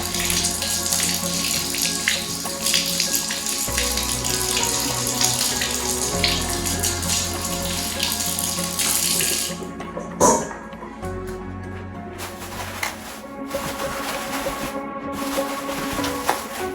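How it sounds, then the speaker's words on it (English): Fresh dill sprigs rinsed under a running kitchen tap, a steady broadband rush of water into a sink that pauses briefly partway through, then resumes with splashing as the herbs are handled. "Dill. Just rinse them all."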